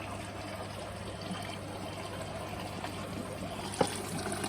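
Water from a mains-fed pump flushing an automatic lower filter: a steady rushing spray and trickle throughout, with one brief sharp knock near the end.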